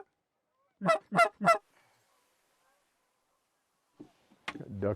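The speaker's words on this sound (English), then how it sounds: "Ducks and geese." Three sharp honking calls from ducks and geese on a waterfowl hunt ring out in quick succession, then a pause before fainter calls and a voice near the end.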